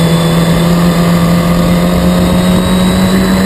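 Historic Formula Ford race cars roar past steadily down the Bentley straight at Snetterton, a loud, sustained engine drone filling the track.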